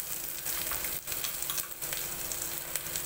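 Masala with coconut and curry leaves cooking in oil in a pan over low gas, a soft steady sizzle with occasional stirring scrapes and crackles, quiet and close.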